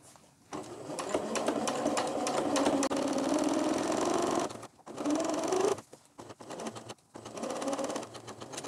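A domestic sewing machine topstitches a bra through thick layers near the cup, running in close, steady bursts of rapid stitching broken by short pauses as the fabric is stopped and repositioned.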